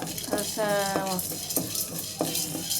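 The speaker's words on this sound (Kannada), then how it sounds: "ಲೋ ಫ್ಲೇಮಲ್ಲೇ ಫ್ರೈ ಮಾಡ್ಕೊಬೇಕು" Cumin, coriander powder and black pepper are fried over a low flame in a pan while a spoon stirs them, giving soft scraping strokes over a faint sizzle. A few clinks of the utensil come through, close and steady.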